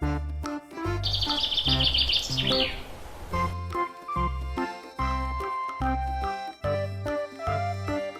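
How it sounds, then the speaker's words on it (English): Bird chirps and tweeting are heard in a children's animal shadow game, with a bright, high trill rising near the start over a steady, loud musical backing track. "It's a bird. Birds can fly high in the sky."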